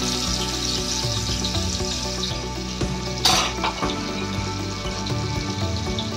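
Continuous oily sizzle and crackle of ground paste frying in oil in a pan for raw banana fry, with a brief burst of louder hiss partway through and occasional stirring clatter.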